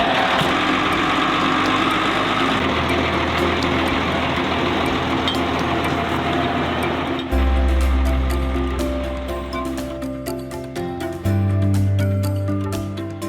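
An engine idles steadily with a low rumble while waves and surf wash around it, as a boat and trailer are pulled out into the ocean, the engine pitch shifting partway through.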